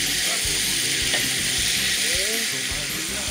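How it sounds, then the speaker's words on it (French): Chicken curry with calabash and chayote stirred in a pot over strong heat, a dense steady sizzle with scraping and clinks of the spoon moving through, close and loud. "On va tourner tout ça, bien mélanger"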